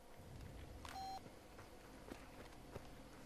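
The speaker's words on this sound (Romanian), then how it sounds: "Sună un telefon." A phone rings inside the video game Far Cry 2, heard as a brief electronic beep tone standing out once over steady background game noise, fairly faint.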